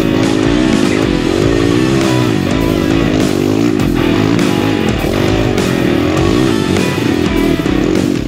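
Two-stroke enduro motorcycle engine revving hard and continuously, loud and close, with rising and falling throttle bursts as the bike struggles on difficult terrain.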